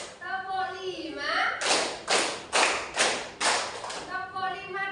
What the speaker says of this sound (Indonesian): tepuk 5,